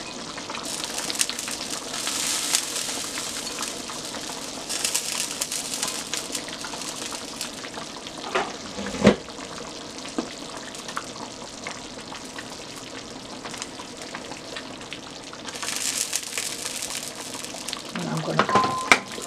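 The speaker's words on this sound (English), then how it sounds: "Now I'm going to add my fish." Fish dropped into a palm oil stew in a pot gives off a steady, close sizzling hiss that swells and eases over the clip, with a brief clatter near the end.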